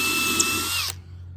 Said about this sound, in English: We'll drill that hole while we're at